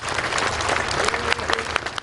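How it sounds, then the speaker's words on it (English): A whole small-town crowd in Spencer cheering and clapping as a fallen soldier is escorted into a funeral home, dense sustained applause with scattered whoops, loud and close. "The entire town broke out into a respectful cheer, a final thank you."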